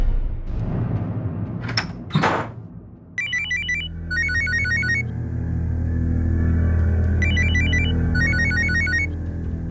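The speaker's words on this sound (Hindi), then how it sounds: "भैया भैया आपका फोन बज रहा है" After a couple of soft thumps, a phone's electronic ringtone trills in repeated bursts over a steady low hum, pausing briefly, then ringing again.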